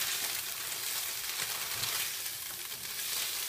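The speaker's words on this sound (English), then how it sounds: "It's got just some oil, it's soaking up the oil and it's browning" Tofu fries in a shallow layer of oil, giving a steady, even hiss of close sizzling that holds throughout with no voice.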